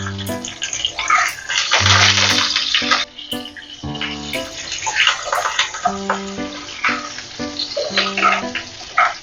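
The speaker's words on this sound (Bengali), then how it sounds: "এবারে আমি দিয়ে দিচ্ছি পেঁয়াজ কুচিটা।" Chopped onion hits hot oil already crackling with black mustard seeds and curry leaves for sooji upma, giving a loud hissing sizzle mixed with background music that plays in bursts.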